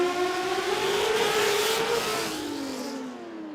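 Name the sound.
Pontiac 4-cylinder twin turbo drag racing car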